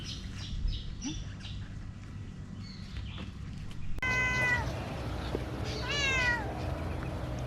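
A cat meows repeatedly at close range on a walk in the Gili Islands, Indonesia, with high rising and falling calls, while faint bird chirps sound in the background.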